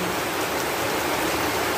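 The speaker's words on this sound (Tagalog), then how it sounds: "Sobrang lakas po ng ulan" Heavy rain pours down on an open farm field amid strong wind, a steady dense hiss of water that fills the whole stretch without pause and with no voices.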